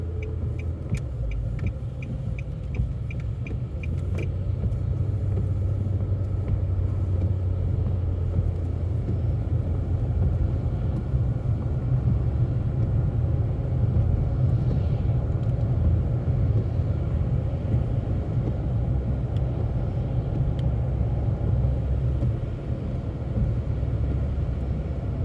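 A car driving through a snowstorm on a salted road that is not accumulating snow, between Lower Sackville and Portland Street, with a steady low rumble and continuous road and tire noise from inside the cabin, constant and fairly loud.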